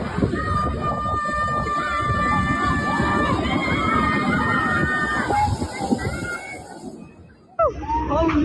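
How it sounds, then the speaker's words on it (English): A crowd screams and cheers at a distance, a sustained mass of shouting voices with some water sloshing, swelling and then dropping away near the end. "the screaming already told the whole story"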